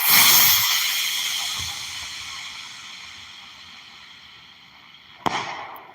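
A hissing, crackling firework burst fades slowly, then a single sharp bang pops near the end.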